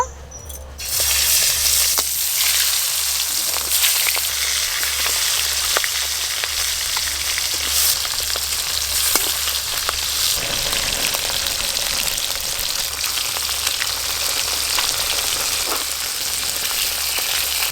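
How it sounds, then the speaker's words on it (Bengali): Fresh river tangra fish frying in hot oil in a home kitchen, a dense, loud, continuous sizzle with scattered pops and crackles, close up and steady for the whole stretch, no talking. "তেল গরম হয়ে গেছে, মাছগুলো খুব ভালো করে ভেজে নেব।"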